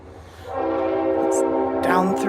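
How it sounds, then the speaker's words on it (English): A train horn sounds from the valley below a mountain village, a sustained, harmonically rich blast that swells and holds. It comes with wind noise and brief voices near the end. "The train."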